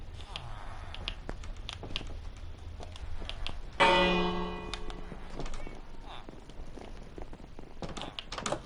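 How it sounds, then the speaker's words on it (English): A village bell in Minecraft rings once with a bright metallic clang that rings out and fades, set among scattered game clicks and taps, with a player talking. "I'm gonna ring the bell."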